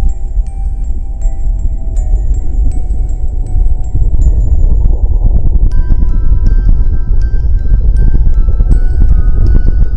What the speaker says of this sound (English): It's the sound of N.W. Rota, a submarine volcano during an eruption.